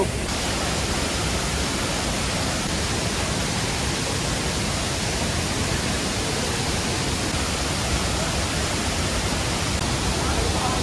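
The Devkund waterfall in Odisha pours with a dense, unbroken rushing roar, close and loud, holding a constant level throughout without pauses.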